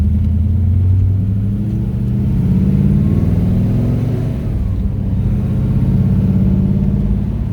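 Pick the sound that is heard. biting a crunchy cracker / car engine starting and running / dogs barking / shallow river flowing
car engine starting and running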